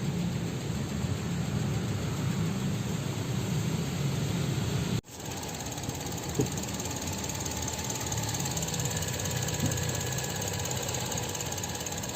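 A Toyota Vios limo engine runs at idle with a steady, slightly uneven mechanical drone and faint knocking, close and continuous after a brief dropout, with no talk.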